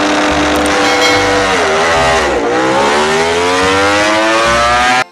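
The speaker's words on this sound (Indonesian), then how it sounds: "selanjutnya ada motor balap" A toy racing motorcycle gives off a loud, continuous engine roar that revs, dips and climbs again for about five seconds before cutting off abruptly.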